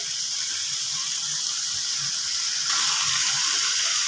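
Water gushes steadily from a tap into a pan of spicy stir-fried catfish curry with Thai eggplants and pea eggplants. The pour is a continuous, close hiss that grows fuller and louder partway through.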